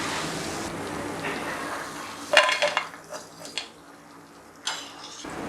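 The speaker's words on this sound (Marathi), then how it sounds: "आता या दुसऱ्या साईडनं पण आपण याला छान अशा तळून घेऊया" Methi mathri frying in hot oil after being turned to the other side, giving a soft steady sizzle broken by a few clinks and scrapes of a utensil against the pan.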